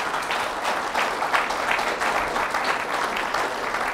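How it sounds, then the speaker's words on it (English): Lecture audience applauding at the close of a talk, dense continuous clapping from a large crowd heard steadily throughout, fairly distant and even in loudness. "Please give Neil a round of applause."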